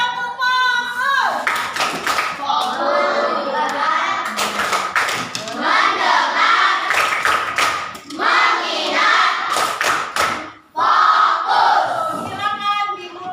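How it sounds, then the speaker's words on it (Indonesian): Students in an Indonesian primary classroom clap their hands in loud, rhythmic bursts, mixed with shouted group chanting and children's voices over about thirteen seconds. "tepuk tangan"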